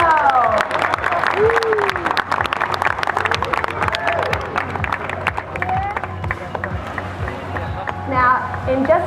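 Audience applause for Diego, a feline performer in a show at the New York Aquarium: sustained clapping throughout, with scattered cheers and chatter from the crowd.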